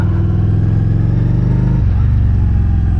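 Honda Shadow Phantom 750 motorcycle engine running loud and close, a deep throbbing rumble that drops in pitch as the throttle eases partway through.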